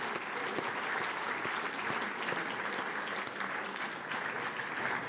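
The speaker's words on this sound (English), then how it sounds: "Can we please give an enormous round of applause to Scott, Neil, Drace, and Ken?" An audience at the WHD.global 2016 keynote panel on spam in hosting gives the panelists a sustained, dense round of applause, a steady wash of many clapping hands filling the hall for several seconds with no voices.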